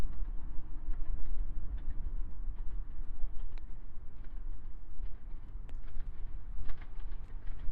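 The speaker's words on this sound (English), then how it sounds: "You can see the train going by there to Llandudno" A train runs past a golf course at Maesdu near Llandudno, a low steady rumble with faint clanks heard from a distance against outdoor ambience, with no talk.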